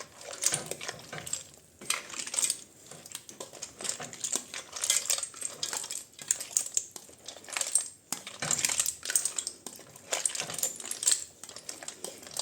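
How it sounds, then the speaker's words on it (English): Fried potatoes being stirred into a Portuguese pork dish (carne de porco à alentejana) in a pan, giving busy, irregular scraping and clinking of utensil against pan that rises and falls continuously, close and fairly loud. "we're just going to add in our fried potatoes. And then we're going to mix everything together"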